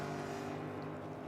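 Ford Mustang race cars with V8 engines at Road America give a steady, low, droning rumble that stays fairly faint and even throughout the short stretch.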